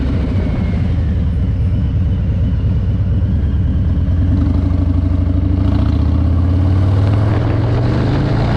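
A deep, steady Harley-Davidson Milwaukee-Eight motorcycle engine idles at a stoplight, rumbling close by, low and throbbing with a slight rise in pitch near the end, with no voices.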